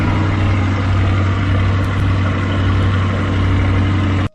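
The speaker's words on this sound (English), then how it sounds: "this is factory exhaust and it sounds pretty damn good" A 2021 Chevrolet C8 Corvette with Z51 package and factory exhaust idles with a steady, loud low-pitched rumble, heard alone and cutting off abruptly at the end.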